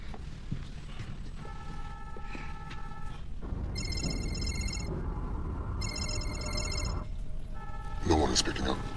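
Telephone ringing unanswered, repeated electronic ring bursts in a regular pattern over a low background hum and faint noises, with no voice answering.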